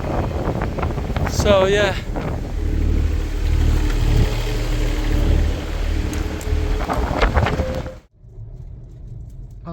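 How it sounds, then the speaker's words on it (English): Extreme wind buffets the outside of a yurt home on open land, a loud continuous roar with gusts and rattling, while a person speaks briefly before the noise cuts out near the end. "Suddenly very strong wind came"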